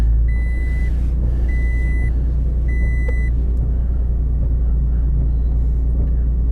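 A Toyota pickup truck engine idles with a loud, steady low rumble throughout, while three short electronic beeps sound near the start.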